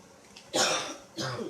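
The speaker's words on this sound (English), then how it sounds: "Sorry, I have a coughing." Two dry coughs in quick succession, close and fairly loud, in a home kitchen while chow mein and ribs are being cooked, with no talking.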